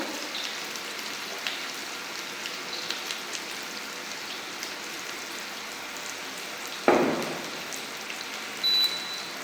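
Broth poured onto sautéing vegetables and pork fat in a pan for stewed cabbage, a steady rain-like sizzle that flares into a sudden louder gush partway through, then settles, no talk.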